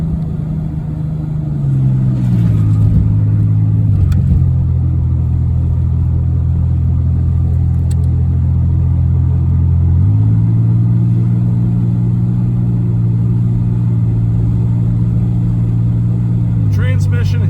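A 1990 Oldsmobile Cutlass Supreme with a worn transmission driving along, its engine giving a steady loud drone that rises and settles with each shift, a continuous close rumble throughout.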